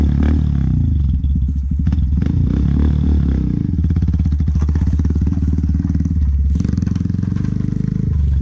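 A 2018 Honda Grom motorcycle engine runs steadily and loud throughout, with a deep rumble, some rattling clatter, and a slight rise in revs near the end.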